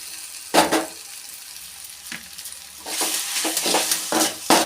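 Boiled Maggi noodles are stirred into a pan, soft sizzling under scraping and clattering spoon strokes that come in uneven bursts, close and moderately loud.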